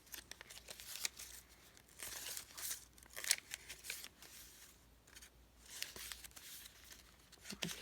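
Papers and tags are handled and flipped in a Christmas scrapbook mini album, with soft crinkles, rustles and light crisp snaps coming in irregular bursts, quiet and close, with no talking.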